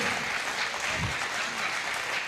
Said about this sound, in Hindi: एक बार तालियां बजाइए।